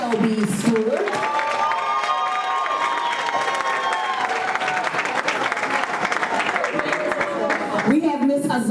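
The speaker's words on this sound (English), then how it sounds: "let's go ahead and give a round of applause for TAPP completers" At a TAPP completion celebration, a crowd applauds and cheers continuously for program completers, with shouts and whoops rising over the dense clapping and a voice speaking briefly near the end.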